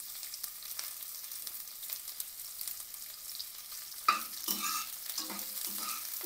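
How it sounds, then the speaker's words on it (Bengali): Chopped onions hitting hot oil with browned chillies, a quiet steady sizzle that flares suddenly louder as they go in, followed by scraping stirs. "এবার এর মধ্যে কেটে রাখা পেঁয়াজ দিয়ে দেব।"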